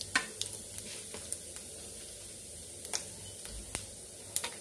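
Chana dal and cumin crackle gently in hot oil for a ridge gourd peel chutney, a steady low sizzle broken by scattered small pops and occasional stirring clicks, close and fairly quiet.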